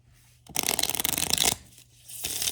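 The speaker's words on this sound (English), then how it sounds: "Okay, I'm going to do one more big shuffle." A deck of Faery Godmother oracle cards gets one big, riffling shuffle: a crisp, close burst of fluttering card noise lasting about a second between quieter pauses.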